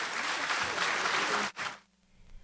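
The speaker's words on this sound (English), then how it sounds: "Our authors, please give them a round of applause." An audience bursts into steady applause for panel authors at a book fair civil rights discussion, the clapping dense and sustained before cutting off sharply and fading to near silence.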